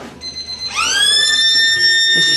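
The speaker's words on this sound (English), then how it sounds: "as the final siren goes here at Jerramungup" A final siren sounds at the end of an Ongerup Football Association country Australian rules match at Jerramungup, a loud sustained tonal wail that rises in pitch and then holds steady for about two seconds with no talk.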